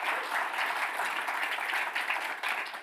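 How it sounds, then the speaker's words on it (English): Conference keynote audience applauding, a dense, steady wash of many hands clapping at moderate distance that holds evenly and tapers slightly at the end. "how about a round of applause for them"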